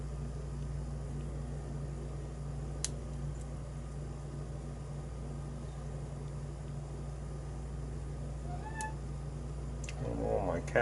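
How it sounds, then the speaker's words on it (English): A cat meows briefly near the end, over a steady low hum during padlock picking, with faint clicks earlier. "My cat's tripping out."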